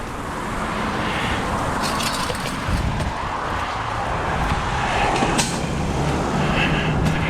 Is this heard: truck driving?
yes